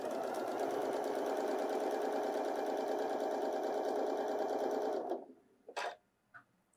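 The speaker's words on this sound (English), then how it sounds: "I'm going to sew all the way to the bottom" A Janome computerized sewing machine stitching through fabric, its loud, steady whirring hum running continuously for about five seconds before stopping abruptly, followed by a few faint clicks and handling sounds.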